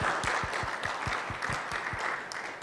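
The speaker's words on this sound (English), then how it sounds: "Let's just give the presenter one applause." Audience at an IEEE Vis 2022 conference session claps for a presenter, with a short burst of even, rhythmic applause from a modest crowd in a room, close and steady.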